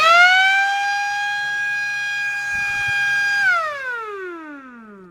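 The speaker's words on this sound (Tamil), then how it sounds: "Siren alarm." Motor-driven siren alarm of a school bell system wails steadily at a loud, constant pitch for about three seconds, then winds down in a falling glide as the motor stops; no one speaks over it.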